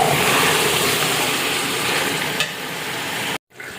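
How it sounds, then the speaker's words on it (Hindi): Chicken with tomatoes, green chilies and ginger fries in a pan, a loud, steady hiss of sizzling oil that holds evenly for several seconds before abruptly cutting out near the end. "अब हम इसके अंदर टमाटर, हरी मिर्चें और अदरक डाल देते हैं और इसको अच्छे तरीके से दोबारा फ्राई कर लेते हैं।"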